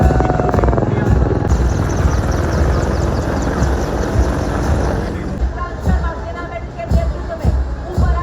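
Indian Army light helicopters fly past at a Republic Day parade with a loud, continuous rotor drone and crowd noise, while a voice talks over it. The drone eases toward the end as brief thumps punctuate it.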